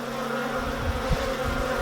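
Honeybees, including drones, buzzing inside an open beehive during a UK hive inspection: a close, continuous droning hum with a few soft thumps.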